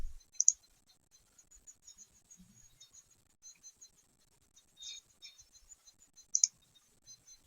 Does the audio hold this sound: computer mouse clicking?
yes